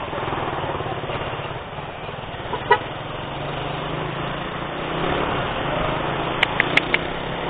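Heavy, slow-moving road traffic in the Philippines: a steady hum of car and motorcycle engines close by, a single honk early on and a rapid burst of several short horn toots near the end, with no speech.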